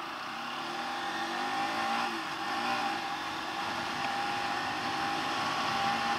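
Motorcycles and other vehicles pass by on a road at night, a steady engine drone with rising and falling pitch as they go by, fairly constant in loudness and no voices heard.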